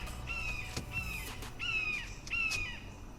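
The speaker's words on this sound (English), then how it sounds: "Loud ass bird." A crow caws loudly several times in a row, harsh drawn-out calls at a steady pace, close by against faint outdoor background noise.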